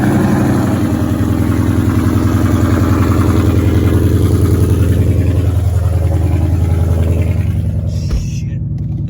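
A 2015 Ford Mustang GT with an aftermarket exhaust idles after a cold start, a loud, close, steady pulsing V8 burble that cuts off abruptly near the end.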